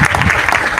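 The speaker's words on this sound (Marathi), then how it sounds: "त्याला जोरात टाळ्या वाजवा" A crowd at a temple anniversary celebration claps in a brief, dense burst of applause, steady and close throughout.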